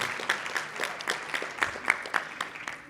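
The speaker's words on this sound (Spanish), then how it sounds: "Qué les parece si le brindamos un fuerte aplauso" Audience at a university colloquium applauding a speaker, with scattered individual claps forming steady moderate applause from a modest crowd, fairly near and without talk.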